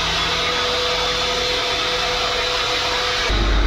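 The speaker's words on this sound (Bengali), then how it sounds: "এখানে আছে হ্যান্ড ড্রায়ার" Automatic hand dryer in a public toilet, a loud continuous blowing roar close by that holds steady and then shifts to a deeper, heavier rush near the end.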